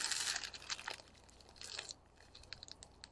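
Crinkling and rustling of a plastic bag holding gray hematite beads, close and quiet, with bursts of crisp crackling that taper into lighter scattered rustles.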